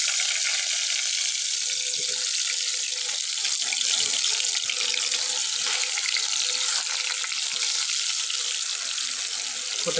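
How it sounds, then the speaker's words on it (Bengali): Vegetables, pointed gourd and sweet pumpkin among them, frying in hot oil, a dense hissing sizzle that holds steady and close for the whole stretch. "তেলটা গরম হয়ে গেছে, তো আমি এর মধ্যে ভাজিগুলো দিয়ে দিচ্ছি।"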